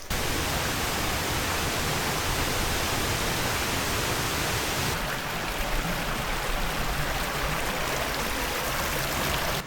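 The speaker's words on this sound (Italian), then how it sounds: "E adesso andiamo verso la cascata." Waterfall near Lake Iseo pouring steadily as a dense, continuous broadband rush, loud and close throughout, with a slight change in tone partway through and no voices.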